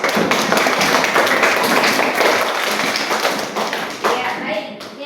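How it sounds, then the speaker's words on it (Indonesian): A classroom of students claps for a classmate, a brisk burst of many hands close by that tapers off over a few seconds. "Ayo kasih aplaus untuk kawan."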